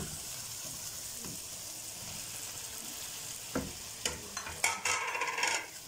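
Okra and green chillies frying in a pan for achari bhindi, with a steady sizzling hiss that turns into a burst of stirring and scraping near the end, close and moderately loud, no voices.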